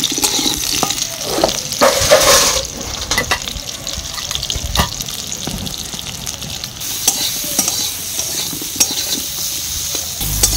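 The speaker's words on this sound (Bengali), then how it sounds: "তাই পেঁয়াজ ভেজে নিচ্ছে।" Onions frying in a little oil in a kadai, sizzling with irregular stirring scrapes and clatters up close, and a splash of water partway through.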